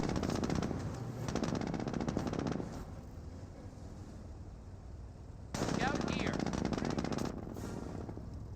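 Rapid machine-gun fire strafing a Jeep in the World War II strategy game Company of Heroes, with loud sustained bursts of dense automatic rattle broken by a quieter lull and a second heavy volley.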